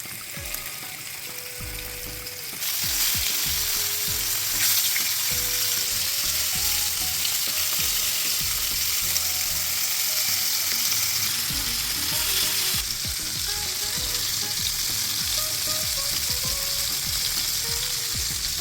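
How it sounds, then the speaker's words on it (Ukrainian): Fish sizzles loudly in hot oil, a dense crackling hiss that jumps up after a few seconds and keeps popping steadily. "смажу з кожного боку 4-5 хвилин до золотистої хрумкої скоринки"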